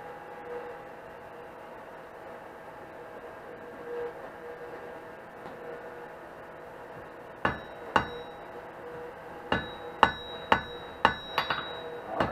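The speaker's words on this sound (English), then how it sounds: "Just tighten up our twists a little bit where we just hammered them." Hot metal twists for a forged braided handle are hammered on an anvil in a forge shop, a series of sharp ringing blows starting after several seconds of background roar, struck in a loose uneven rhythm close by.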